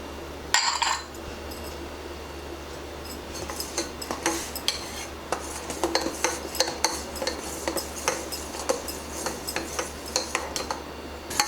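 Spoon stirring coconut flesh with tender coconut sugar in a pan, repeated scraping clinks of metal against the pan in an irregular rhythm, close and clear, after a sharper knock near the start.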